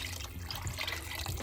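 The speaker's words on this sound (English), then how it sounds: "And I'm going in with some chicken broth" Chicken broth pours into a cooking pot as a soft, steady liquid stream, close and continuous, with no voices over it.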